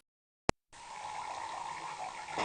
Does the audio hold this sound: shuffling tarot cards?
no